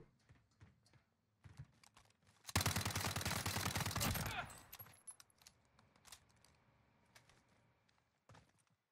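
A roughly two-second burst of rapid automatic gunfire from Call of Duty Warzone played on PC rises loud amid quiet, scattered keyboard clicks.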